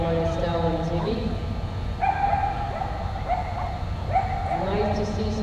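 Chinese crested dog at a UKI US Open agility event, giving a few short sharp barks and yips over steady arena crowd noise, fairly close.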